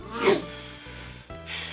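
A single short sneeze from a person at a retro gaming expo haul session, loud and close near the start, followed by quieter room noise and faint talk.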